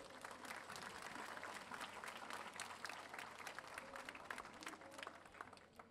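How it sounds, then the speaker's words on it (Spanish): Audience at a poetry reading breaks into steady, dense applause, a continuous wash of many hands clapping at moderate distance, with some crowd murmur underneath. "Venga ese fuerte y caluroso aplauso."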